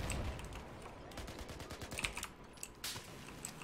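Rapid gunfire in the shooter Battlefield 4 on the Paracel Storm map, quick clustered bursts of shots under a busy, noisy battle mix, with no talk over them.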